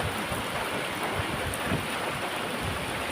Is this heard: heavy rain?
yes